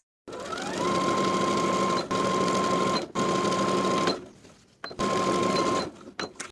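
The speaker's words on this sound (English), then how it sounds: "I'm going to edge stitch along my finishing stitches" A sewing machine edge stitches along a pant leg hem, running in a steady whirring buzz with brief pauses and restarts, close and loud with no voices.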